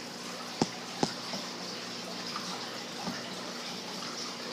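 Aqueon aquarium filter pump drawing water up through its intake, a steady soft watery trickle and hum with a couple of sharp clicks or drips near the start.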